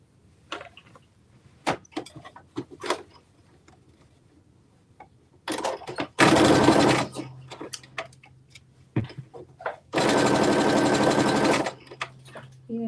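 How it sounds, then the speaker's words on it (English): Sewing machine running a straight stitch with a 5/8-inch seam allowance on shorts, in two loud, close bursts of rapid stitching separated by handling clicks and rustling of fabric. "we're just going to do a straight stitch with 5/8 of an inch seam allowance"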